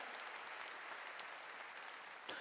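A church congregation claps together in steady, fairly faint applause lasting a couple of seconds, with a slightly sharper burst just before it ends.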